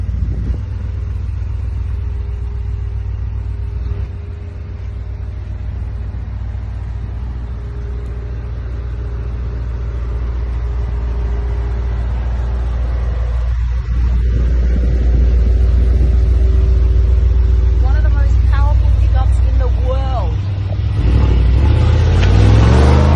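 Brabus 240 G-Wagen engine rumbling steadily up close with a deep low drone, building as the SUV pulls away and revs harder near the end.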